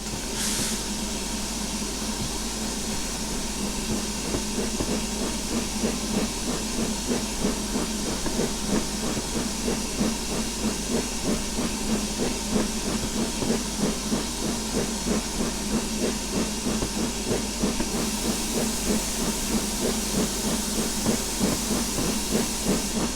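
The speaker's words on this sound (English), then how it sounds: "There's the nice sort of steam chest effects." Steam locomotive steam chest effects in Train Simulator Classic, with NYMR content: a continuous loud hiss of steam over a rhythmic, chuffing engine pulse that carries on steadily throughout.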